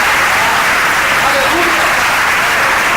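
A church congregation applauds in a dense, steady wash of clapping, loud and continuous, with scattered voices mixed in.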